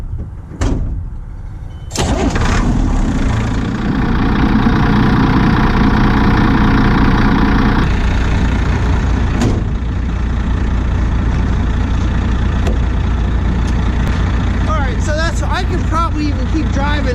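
A broken-down machine with its fan and alternator belts pulled off is started up: a brief cranking burst, then the engine catches and settles into a loud, steady close idle that runs on with a speaking voice under it.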